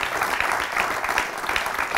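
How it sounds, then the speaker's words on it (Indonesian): A large wedding audience claps for the couple, a close, dense burst of applause with steady rhythmic pulses and no speech over it. "Tepuk tangan dong untuk pernikahan yang megah"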